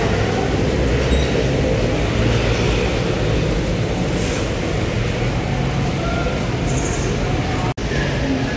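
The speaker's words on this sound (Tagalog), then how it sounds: "Yan is another sakay ulit ng train papuntang Baclaran" Steady loud rumble and rattle of an LRT light rail train in motion toward Baclaran Station, a constant roar filling the whole clip with a brief dropout near the end.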